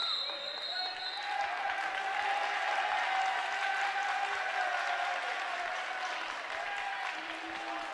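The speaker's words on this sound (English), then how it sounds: "The Junction City crowd is applauding" Home crowd at a Junction City high school boys' basketball game applauding, steady clapping filling the gym throughout while an announcer talks over it.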